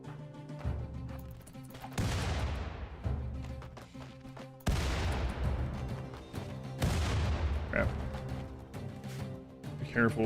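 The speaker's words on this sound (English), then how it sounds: "Careful, frag grenades." Frag grenades going off in RimWorld during a raid, with several sharp blasts whose crashing tails decay, amid a tangle of game sounds and a voice talking over the action.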